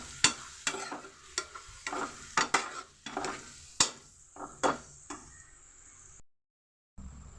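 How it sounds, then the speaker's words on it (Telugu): Onion pieces frying in oil, heard as a steady bright sizzle broken by regular scraping strokes of a spatula stirring the pan, fading out at the end. "ఉల్లిపాయ ముక్కలు ఫ్రై చేసుకున్నాం ఇవి బాగా గోల్డెన్ కలర్లోకి వచ్చేంత వరకు కూడా ఫ్రై చేసుకోవాలండి"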